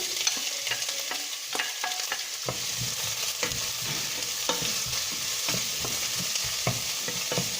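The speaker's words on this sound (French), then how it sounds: "Donc on rajoute les oignons pour les faire revenir." Onions fry in olive oil in a pan for a lasagna bolognese sauce, sizzling steadily and close by while a utensil stirs them with light scraping clicks, with no voices.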